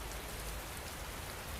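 Steady, relentless rainfall pattering on surfaces, a dense even hiss of drops with no pauses, thunder or voices.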